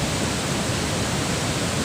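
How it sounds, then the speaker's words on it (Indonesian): Curug Omas, a large three-tiered waterfall at Capolaga, roars as a steady, dense broadband rush of falling water, loud and unbroken throughout with no voices. "dia tiga air terjun gitu"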